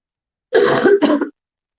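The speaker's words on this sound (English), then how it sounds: "my cough sounds so gross" A single wet, congested cough of two quick bursts, the first longer, heard close and loud against silence.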